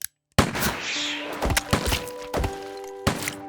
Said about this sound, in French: Elle place des petits sacs de peinture ou des tomates cachés sous le plâtre, tire ensuite dessus